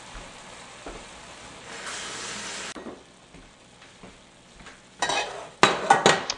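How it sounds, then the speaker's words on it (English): Black bean stir-fry sauce in a wok is stirred as slurry thickens it, soft sizzling and a faint hiss under light scraping, then louder clanks and scrapes of utensil against the pan near the end. "add the rest of the slurry to our sauce with the black beans and watch that thicken up a little better"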